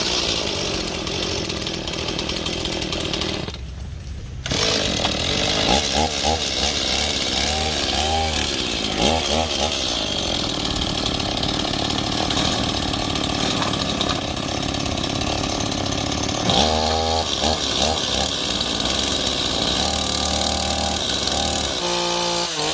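A trail motorcycle engine buzzes loudly and steadily outdoors, its high-pitched revving rising and falling in short bursts with a raspy, chainsaw-like edge.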